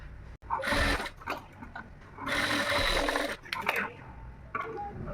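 A sewing machine stitches a hook strip onto the right side of a lined blouse in short bursts of rapid whirring with pauses between, close up, with someone talking in between.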